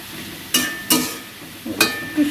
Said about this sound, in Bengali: চাল কুমড়োটাকে দেখুন ভেজে নিচ্ছে।